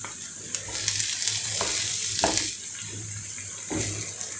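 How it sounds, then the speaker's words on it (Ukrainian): Steady frying sizzle of onion and garlic in melting butter, with occasional stirring clinks and scrapes in a pan, close and continuous throughout. "Зараз смажимо цибульку, чесничок, зараз масло наше розтане."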